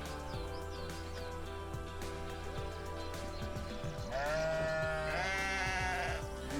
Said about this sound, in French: C'est la brebis chérie que j'avais perdue